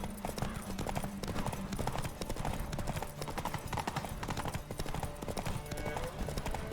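Roach the horse galloping in The Witcher 3 video game, a rapid, steady clip-clop of hooves running throughout at close range, with faint game ambience and no talk.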